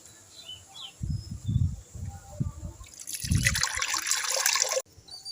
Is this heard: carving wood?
no